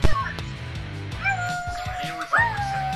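A dog gives a sharp yip and then high, wavering whimpers and whines. The sounds are close and loud, coming in short bursts over a background of game or engine noise.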